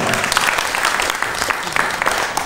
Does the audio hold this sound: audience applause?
yes